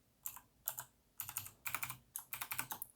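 Fingers typing a password on a computer keyboard, close and crisp, in quick clustered bursts of keystrokes separated by short pauses.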